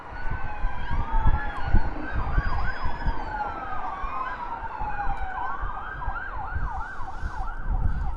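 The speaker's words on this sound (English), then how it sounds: "5 or 6 blacked out police cars zooming up the Finchley Road there" Several blacked-out police cars race up the Finchley Road in London with wailing, overlapping sirens sweeping up and down over traffic rumble, moderately distant and continuous.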